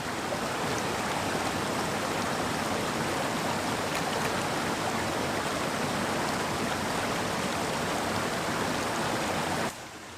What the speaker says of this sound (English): We're right at the base of this little waterfall here.